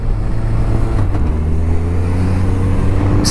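Suzuki Bandit motorcycle, a 550-pound bike, with its engine pulling steadily as the throttle opens while riding, a loud continuous low drone with a rising hum and no talk.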